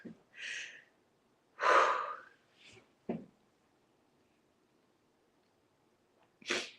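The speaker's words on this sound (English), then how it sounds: "Deep breaths" Deep, audible breaths come in several separate bursts, a couple of long inhales and exhales with short gasping pulls between them, close and fairly loud against near silence, with no talking.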